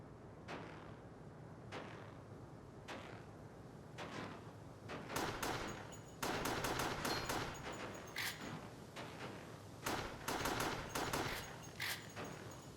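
Gunfire in Resident Evil: The Darkside Chronicles cracks out as repeated sharp shots, sparse at first and then in quick clustered volleys, fairly loud over a low background rumble.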